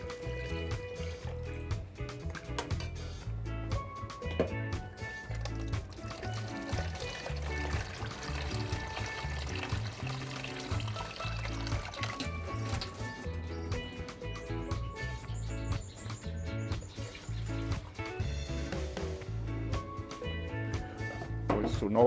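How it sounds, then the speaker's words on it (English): Water is poured into a cooking pot for Trinidadian lentil peas pelau, a steady, fairly faint splashing trickle that runs throughout. "So now I'll add some water."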